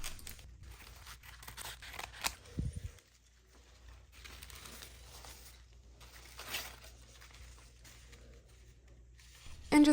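Scissors cutting paper for giant paper flowers, heard as a string of soft crinkling snips and tearing rustles, fairly quiet and close, with a brief louder burst of handling partway through.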